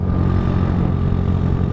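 A motorcycle engine idles roughly and runs steadily at close range with a dense low rumble, no distinct revving peaks and no talk.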